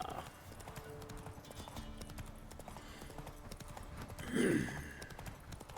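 Roach, a horse in The Witcher 3, trots with steady clip-clopping hooves under quiet game ambience, ending in a short louder snort or whinny near the close.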